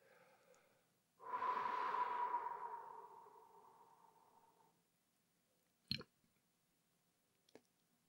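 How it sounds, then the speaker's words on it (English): A person draws a big breath and lets it out slowly during a guided meditation. The long, soft rush of air stands alone and fades over several seconds, followed by a sharp click and a fainter tap. "Taking a big breath and exhaling slowly."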